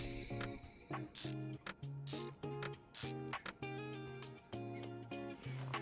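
Screws tightened with a ratchet in the video game Car Mechanic Simulator 2021: bursts of rapid mechanical clicking alternate with short tonal whirring, close and clear, with no talk over them.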